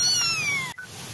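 A cat gives one drawn-out, close meow that bends downward and then cuts off sharply, heard alone without speech.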